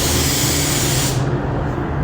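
A paint spray gun sprays automotive paint in a fan pattern to blend a panel, giving a loud, close, steady hiss. Its bright top end drops away about halfway through while a lower rushing continues.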